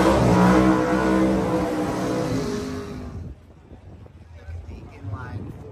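A supercharged inline four-cylinder top fuel drag racing motorcycle screams past at full throttle, loud and harsh, then the roar cuts off sharply after about three seconds, leaving faint crowd and ambient noise.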